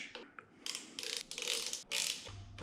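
A ratchet tool clicks in quick bursts as T30 Torx screws are loosened on the clutch and brake controls of an Indian motorcycle's mini ape handlebars. The bursts are close and moderately loud, separated by short pauses.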